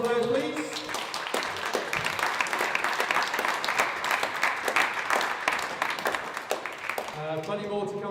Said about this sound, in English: Can we get one more big round of applause for the players, please?